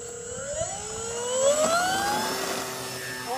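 A 55-inch-wingspan FMS BlitzRC Cessna RC model airplane flies overhead with flaps down, its electric motor giving a steady whine that rises in pitch and swells as it passes close, then holds a sustained drone.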